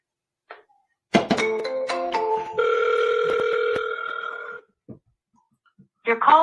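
Telephone call after a double dial, with a few short tones, then a rising series of electronic beeps and a steady tone that cut off abruptly, and another burst of tones starting at the end.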